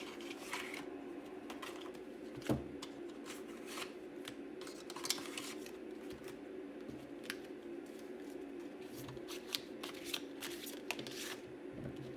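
Oracle cards are shuffled quietly at close range, with repeated soft flicks and riffling snaps scattered irregularly over a low background hum, with no one speaking.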